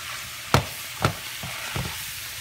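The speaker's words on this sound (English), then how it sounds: "I'm going to cook it for a couple of minutes, cook the flour down for a couple of minutes over the meat" Flour being stirred into cooking meat in a pot for New Mexico style red chili con carne, with four soft scraping stirs spaced about half a second apart over a faint low sizzle, close and alone.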